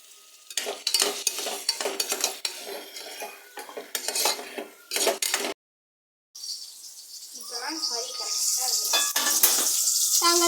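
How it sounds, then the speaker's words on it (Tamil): Chicken being sautéed in a pan, with busy clattering of a spoon against the metal pan and stirring, a short gap, then a rising sizzle with more scraping. "இப்போ நான் வந்து சிக்கனை மட்டும் இப்போ போட்டு நம்ம நல்லா வதக்கிக்கலாம்."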